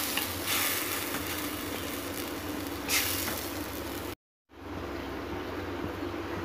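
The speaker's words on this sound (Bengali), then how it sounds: "তো বন্ধুরা, এটা ততক্ষণ পর্যন্ত কষাতে হবে যতক্ষণ না এটা তেল ছেড়ে দেয়" Spice masala sautéing in oil in a pan while a broccoli dish cooks, giving a steady close sizzle throughout that cuts out briefly near the end before resuming.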